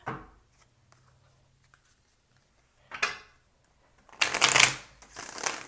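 Tarot cards being shuffled by hand, with a couple of short riffles followed by a louder, crisp flurry of shuffling near the end, close up and without talk.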